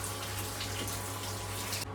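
Running tap water pours steadily over market vegetables being washed, small pointed gourds, bitter gourds and tomatoes, a constant close splashing hiss with no talk, cutting off abruptly at the end.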